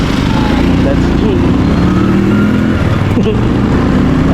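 A motorized tricycle's engine drones loudly close by and passes steadily through the scene, while someone speaks briefly over it.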